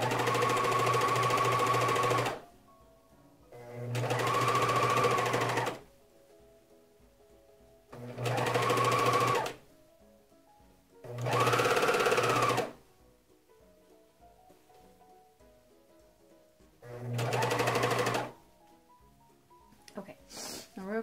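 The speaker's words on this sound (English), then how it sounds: "we're gonna serge around the tab and come to the back elastic" A serger stitches around the tab of a cloth diaper in five loud, steady bursts of about two seconds each, with quiet gaps between them.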